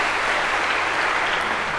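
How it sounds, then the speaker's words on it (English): Audience applause fills a lecture hall, a steady dense clapping that stays loud and even throughout with no talk over it. "now we get your round of applause"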